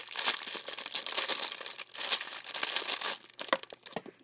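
Plastic packaging on a Beyblade toy set crinkles and rustles up close as it is opened, with bursts of crackling handling noise and brief pauses, and nobody speaking.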